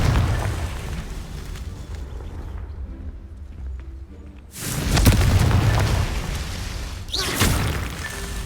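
A Confringo blasting spell goes off in a Hogwarts video game, a loud booming burst that rolls out after a brief hush, followed by a second smaller blast.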